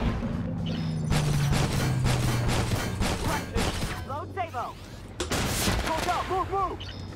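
Tank cannon and weapon fire in Armored Warfare booms and rattles in a dense opening barrage, then in scattered heavy blasts, while someone talks over parts of it.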